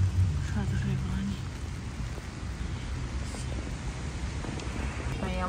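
Steady rain falls outdoors near a fountain, a continuous soft hiss of drops on surfaces that fills the whole stretch, with faint voices in the background.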